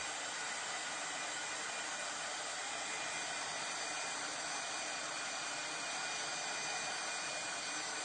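A hair dryer runs steadily, drying a glitter transfer on a Christmas craft piece, with a continuous loud airy whoosh and motor hum that holds the whole time and has no talking over it.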